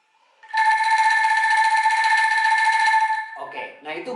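A bamboo angklung shaken rapidly sustains one steady, bright legato tone for about two and a half seconds. A voice starts speaking just after the note fades.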